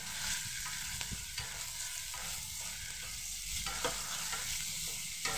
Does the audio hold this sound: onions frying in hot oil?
yes